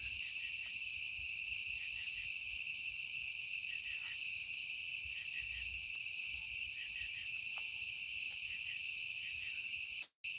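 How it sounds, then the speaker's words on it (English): Crickets and cicadas chirp outdoors at night in a steady, continuous high-pitched drone, fairly faint and unbroken, with soft background noise underneath. "I love just hearing it. The crickets and cicadas."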